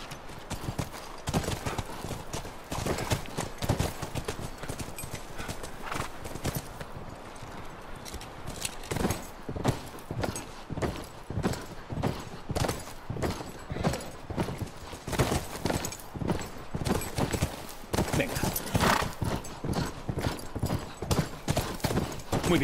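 Horses walking in The Last of Us video game, their hooves making a continuous, fairly loud clip-clop with an uneven, overlapping rhythm that goes on throughout.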